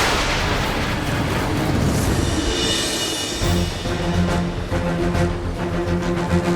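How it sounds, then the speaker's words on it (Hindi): A huge explosion blast effect from a superhero TV series roars loudly for about three seconds, then rumbles on beneath rising dramatic music. "मगर इस बार मैं ऐसा धमाका करूंगी कि वो दोबारा उठ नहीं पाएगा।"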